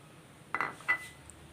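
Chopped shallots dropped into a mixer grinder jar for a Kerala fish dish, giving two quick, soft clattering bursts close by in a quiet kitchen.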